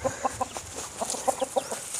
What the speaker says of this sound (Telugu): కోళ్ళు కూడా చూసుకోవచ్చు